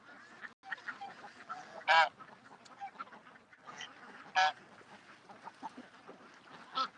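Duck calling outside a tent at a morning camp, a few loud, sharp honking quacks standing out over a quiet rustling background, spaced several seconds apart.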